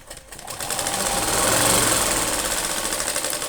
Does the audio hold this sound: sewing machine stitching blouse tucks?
yes